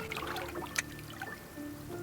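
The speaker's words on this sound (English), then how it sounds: "So the cold water does sit at the bottom, so I'll probably stir it again." Water being stirred by hand in an outdoor hot tub to mix cold water up from the bottom, giving soft sloshing and trickling with one brief splash, close and fairly quiet.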